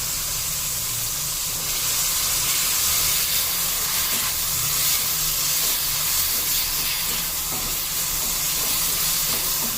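Chicken sautéing in a pan with salt and black pepper, a loud, continuous hissing sizzle that holds steady and close throughout with no talking.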